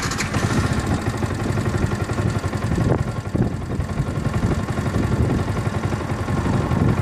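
A 2015 Yamaha YZF R125 motorcycle engine running at a steady idle, a close, loud, continuous single-cylinder putter with little variation throughout.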